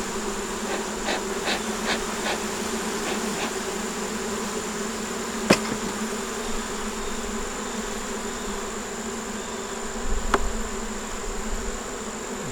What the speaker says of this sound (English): Y'all may be able to see all them bees behind me.